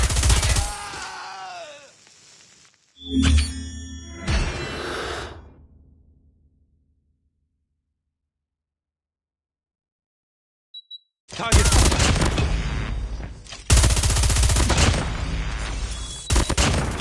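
Bursts of rapid automatic gunfire from Call of Duty Mobile roar in loud, dense volleys, broken by a long silent stretch before the shooting resumes near and sustained, with faint game voice callouts mixed in.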